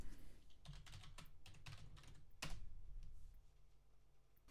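Typing on a computer keyboard picked up by a Rode NT3 microphone, a quick run of close, crisp key clicks with one sharper keystroke partway through, quiet overall and alone.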